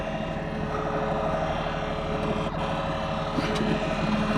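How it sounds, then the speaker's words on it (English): Sirens on a street in Memphis wail steadily in the distance over a constant traffic hum, unbroken and heard alone. "All you hear is sirens."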